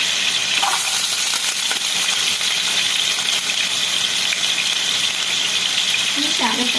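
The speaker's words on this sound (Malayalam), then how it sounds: "ഇനി നമ്മളത് ശാലോ ഫ്രൈ ചെയ്യും." Chicken pieces shallow fry in hot oil with a loud, steady, close crackling sizzle that continues throughout, with a brief faint voice near the end.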